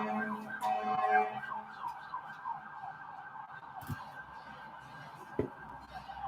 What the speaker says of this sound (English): We got some sirens in the background.